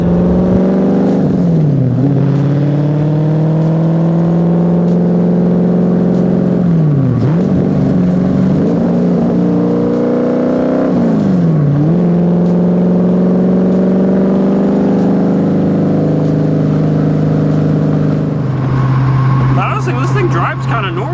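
Factory 5 GTM, a 2011 kit supercar, accelerating hard from the cabin through several gear changes, engine pitch climbing repeatedly then dropping at each shift, loud and close, with talking over it.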